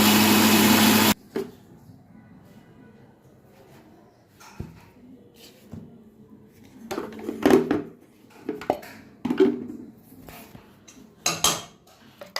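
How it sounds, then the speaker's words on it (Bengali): An electric blender grinds rice for pitha with a loud, steady whir that cuts off abruptly after about a second, followed by scattered clinks and clatters of kitchen utensils and containers. "এটা দিয়ে এখন ব্লেন্ড করা হবে। ব্লেন্ডার করে তারপরে পিঠা বানাবো।"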